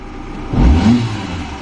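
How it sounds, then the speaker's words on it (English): A close car engine rises briefly in a short rev, then eases back to a steady running hum. "Yeah, now it's revving."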